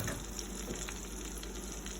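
Pork chops frying in a pan over a medium-high flame, a steady close crackling sizzle that holds evenly throughout with no talk.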